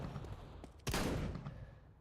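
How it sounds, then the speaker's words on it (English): A shotgun fired in a video game, one sharp loud blast that decays over about a second, standing alone over quiet background noise. "Yeah, shotguns. The damage is high, but you might not get the kill."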